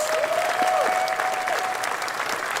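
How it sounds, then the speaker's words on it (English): Sustained applause from a large crowd at a university event introducing a new men's basketball coach fills the space, steady and fairly loud, with a faint whistle or tone riding over the clapping. "Let's give them a round of applause."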